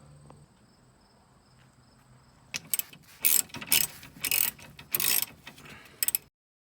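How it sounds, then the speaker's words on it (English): A torque wrench ratcheting on a rear strut bolt of a Subaru WRX, several bursts of rapid clicking close by after a quiet start, then stopping abruptly. "tighten both bolts, but we're only gonna torque this one."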